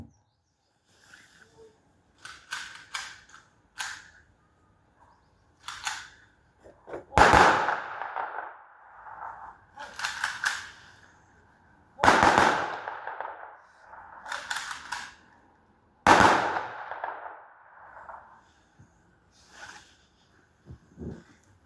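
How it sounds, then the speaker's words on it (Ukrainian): A ceremonial salute volley of gunfire rings out at the opening of memorial plaques, several sharp rifle cracks in separated bursts with echoing tails, loud and close, with no talk over them. "просимо салютну групу здійснити залп"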